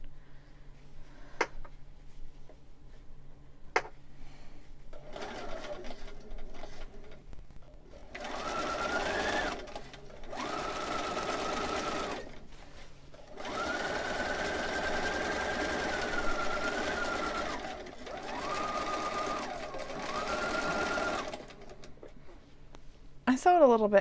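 A sewing machine stitches a satin monk robe in several sustained runs of varying length, separated by short pauses with faint clicks; no one speaks.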